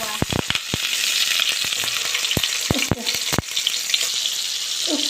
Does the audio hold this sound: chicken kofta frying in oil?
yes